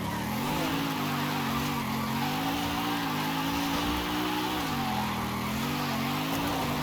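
A Mercedes-AMG wagon driving and sliding in Forza Horizon 5: a loud, steady engine drone with wavering pitch under a continuous hiss of tire noise, with no break throughout.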